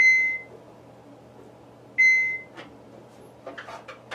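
Water ionizer emitting two short electronic beeps about two seconds apart as the filter button is held to reset the counter, clear and close in a quiet room, followed by faint clicks and handling noises.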